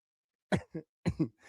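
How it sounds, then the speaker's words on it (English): Four sharp, harsh coughs close to the microphone in two quick pairs, with brief silences between them. "I didn't mean to cough in the mic."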